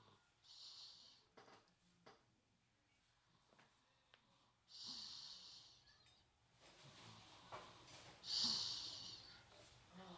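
A sleeping dog's slow breathing with soft snorts and snuffles rises and falls in several quiet bursts at close range, with no talk over it.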